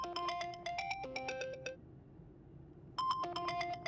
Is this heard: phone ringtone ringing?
yes